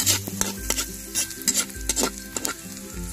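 Chopped garlic sizzling and frying in a hot pan outdoors, stirred with a utensil in a steady crackle broken by repeated scraping strokes, close and moderately loud.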